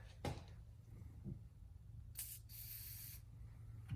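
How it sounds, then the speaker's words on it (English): Two bursts of penetrating oil spray hiss onto 2002 Dodge Dakota rear brake parts, a short one then a longer steady blast lasting about a second, with faint handling clicks before and a low background hum. "get some of your penetrant, spray it on there"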